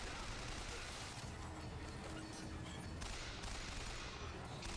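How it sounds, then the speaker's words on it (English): Machine gun fire rattles in the video game Bioshock Infinite as a dense, continuous fusillade of shots, fairly quiet and unbroken across the whole moment. "Maybe I should be using my machine gun on this guy."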